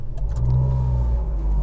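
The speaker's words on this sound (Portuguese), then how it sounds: "Fabi, liga o carro de novo." Car engine starting and settling into a steady, low idle, close by and loud for under two seconds, with no talk over it.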